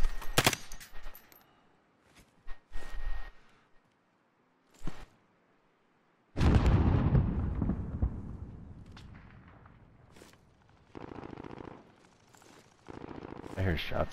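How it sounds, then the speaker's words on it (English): Video game gunfire: short bursts of shots in the opening seconds, then a long loud rattling volley of rapid shots that fades, with a few more bursts near the end. "I hear shots to our east"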